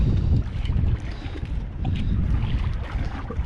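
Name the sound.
wind outdoors on the water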